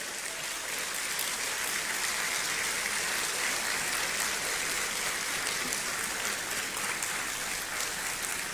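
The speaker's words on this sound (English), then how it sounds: "Please welcome her with warm applause." Sustained applause from a large audience at a Ghanaian citizenship ceremony, a dense, steady clapping that fills the room at an even level throughout, with no voices heard over it.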